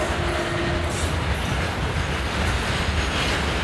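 Freight wagons of a long goods train roll steadily past Bilasipara railway station in a continuous close rumble, with faint clatter of wheels throughout and no voices.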